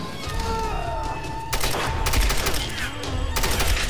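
Submachine gun fire in Tomb Raider 2013, loud bursts of rapid shots near the middle and end of the clip, set against a steady game ambience.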